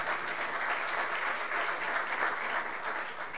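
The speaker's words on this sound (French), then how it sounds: "puisqu'on va retrouver M. Alain Bernard qui va venir nous rejoindre sous vos applaudissements." Sustained applause from a conference audience welcoming a guest onto the stage at a digital-and-sport event, dense steady clapping throughout with a faint voice underneath.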